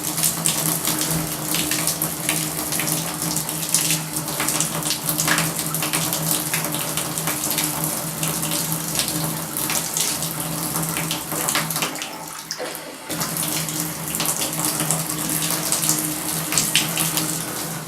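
Water runs steadily from a bathroom tap in a poorly renovated bathroom, a continuous close gushing splash that dips briefly near the end and then carries on with no voices.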